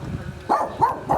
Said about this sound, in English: Always barking.